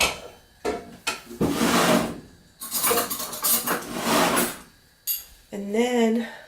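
Metal spoons clink and clatter into two bowls, a few sharp knocks of cutlery against dishware, with a voice speaking in between.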